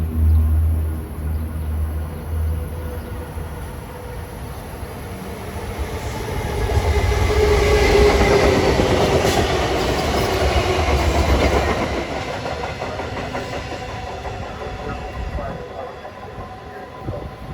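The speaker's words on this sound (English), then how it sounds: "Approaching now is train 3373, New York Bayhead train, one of the through jobs, the last through job of the day" NJ Transit train 3373, a New York to Bay Head through run led by an ALP-45DP locomotive, approaches and passes on the Northeast Corridor at Linden, New Jersey, with a low engine drone swelling into a loud, sustained rush of rolling wheels.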